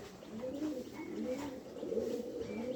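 Pigeons on a farm cooing in soft, repeated throaty phrases, several birds overlapping at moderate distance with no voices.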